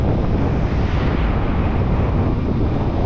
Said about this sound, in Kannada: ಕೋಲ್ಡ್ ಗಾಳಿ